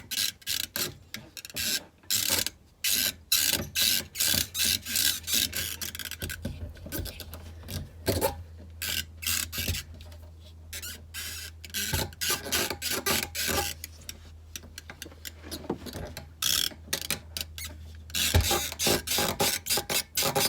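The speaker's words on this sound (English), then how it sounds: "pry it, wiggle it back and forth until it comes out." A fuel filter in an R56 Mini Cooper S is wiggled and pried out, giving repeated close scraping and rubbing bursts of plastic working loose in an uneven back-and-forth rhythm.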